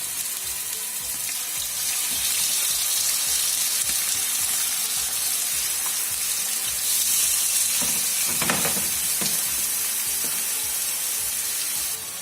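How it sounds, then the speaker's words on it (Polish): Frozen fish sizzles and crackles loudly in hot oil, a steady frying hiss with brief bursts of louder spitting partway through. "ryba musi nam się smażyć, nie gotować, tylko smażyć"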